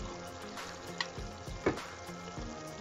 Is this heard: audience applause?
no